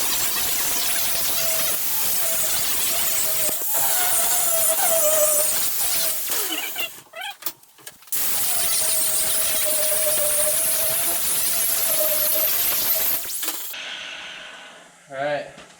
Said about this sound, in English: So got the grinder.